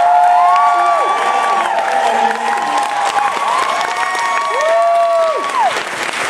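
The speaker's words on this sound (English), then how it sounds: "can I just get a big round of applause for all the cosplayers" Big crowd at a Glasgow comic con cosplay competition applauding and cheering the cosplayers, loud sustained clapping with whoops and shouts rising over it throughout.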